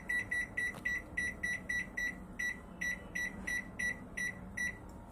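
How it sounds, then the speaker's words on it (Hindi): A rapid string of high electronic beeps in regular pairs and groups as a microwave oven is set and started, over a low, steady appliance hum. "अब हम माइक्रोवेव को स्टार्ट कर देंगे।"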